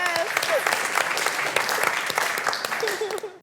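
Audience applause and cheering for a mother at a Nigerian pantomime dance show, a steady clapping wash lasting the whole stretch with voices and a few whistle-like calls mixed in, ending abruptly.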